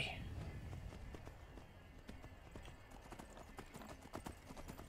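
Rapid galloping hoofbeats of a horse in the video game Skyrim thud in a steady rhythm, close and fairly loud, with a brief whinny at the start and faint voices underneath.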